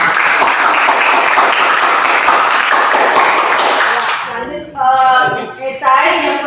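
A classroom of students in a chemistry lesson bursts into loud, dense applause for about four seconds, then a person speaks as the clapping fades out.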